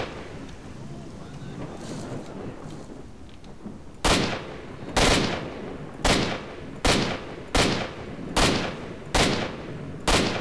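Shotgun fire in S.T.A.L.K.E.R. Shadow of Chernobyl: eight loud, sharp blasts spaced roughly a second apart, each with a short decaying tail, following a stretch of quiet ambient noise.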